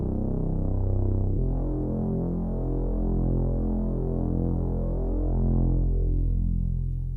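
A Eurorack modular synthesizer note, warped and given a long time setting, sustains as a steady, throbbing low drone for the full seven seconds, close and alone with no voices.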